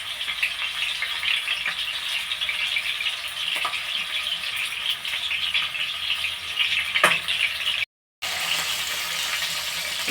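Keema balls sizzle steadily as they fry in a pan for a Tamil keema ball biryani, a continuous close, bright crackle with a few faint clicks and a short dropout near the end, no voices.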